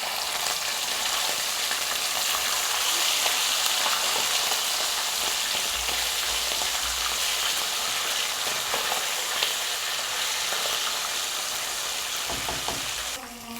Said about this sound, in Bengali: মাছটা উল্টিয়ে দেব। মাছটা আমার এক পিঠ হয়ে গেছে।